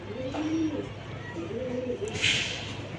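Racing pigeon squabs coo softly in a few low, rolling phrases, with a brief higher rustle or chirp near the end, heard close at low level.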